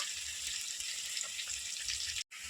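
Chicken pieces for Telugu chicken pickle fry in a pan of hot oil, giving a steady, close hiss and crackle that runs unbroken before cutting out briefly near the end.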